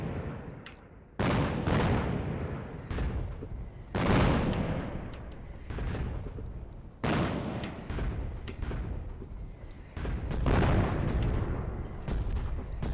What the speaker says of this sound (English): All gunboats, fire, full fire, full fire.